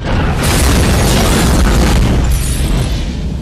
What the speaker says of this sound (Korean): 이거 2차 폭발이 있는 거 아니에요?